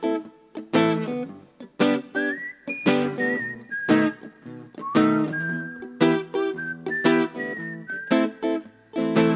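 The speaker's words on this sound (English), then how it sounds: "Gonna whistle at the start of this one." Whistled melody opening a song in a live acoustic session, a clear tuneful whistle sliding between sustained notes over strummed guitar chords, close and prominent with no talking.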